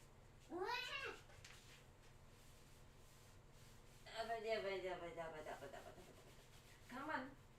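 A cat meows three times, with a longer drawn-out cry in the middle, close and fairly clear against a quiet room.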